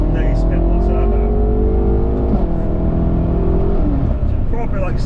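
A tuned BMW M3 or M5 pulls hard in third gear on a street, its engine a loud, steady, rising drone heard from inside the car, with someone talking over it.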